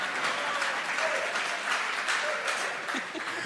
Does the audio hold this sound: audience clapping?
yes